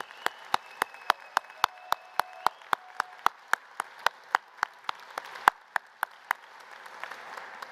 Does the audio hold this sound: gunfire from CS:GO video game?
no